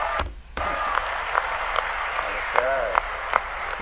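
Debate audience clapping to cut off a speaker whose time has run out, a continuous wash of applause with a few louder claps, while voices talk briefly over it.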